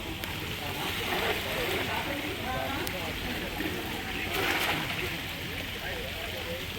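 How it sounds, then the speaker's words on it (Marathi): Steady, dense heavy rain fills the whole stretch at an even level over a creek during traditional net fishing, a constant wash with occasional louder swells. "पाऊस पण भरपूर लागलाय मित्रांनो"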